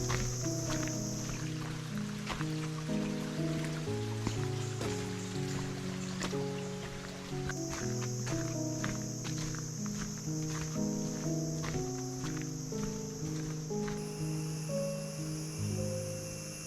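Rainforest ambience in Silent Valley, Kerala: crickets and insects chirp in steady high pulses over soft trickling water, with quiet melodic instrumental music running underneath, all faint and distant.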